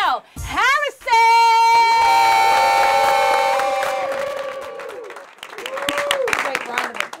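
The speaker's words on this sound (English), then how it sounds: "Great round of applause." A studio audience at an entertainment show breaks into applause and cheering after an introduction, rising loud and full before tapering off, with music and voices layered over it.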